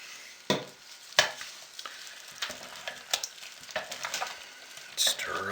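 Thick, jelly-like hot process soap being stirred while it cooks, giving repeated scraping and sloshing strokes at an uneven pace, close and fairly quiet, with no talking.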